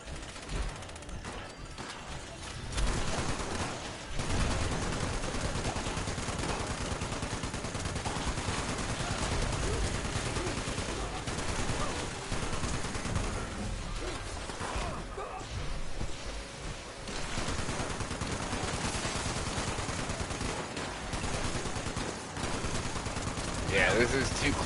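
Sustained automatic gunfire in Fallout 76, dense bursts of rapid shots running nearly continuously with reloading clicks and a voice talking over the shooting.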